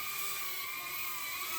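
The tiny motors of a FuriBee F90 2S-capable drone flying outdoors give a steady high-pitched buzzing whine, faint and continuous with slight shifts in pitch.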